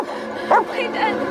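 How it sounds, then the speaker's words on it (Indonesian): A dog in a forest gives a couple of brief yips or whimpering barks, fairly close, with a voice talking over them. "Ia pun mendengar suara gonggongan anjingnya."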